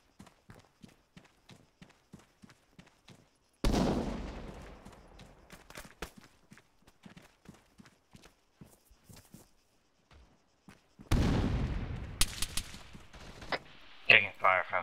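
Gunfire in an Arma 3 patrol firefight, sharp clustered shots repeating through the scene with two heavy bursts of rolling fire, some sounding distant, amid footsteps and movement.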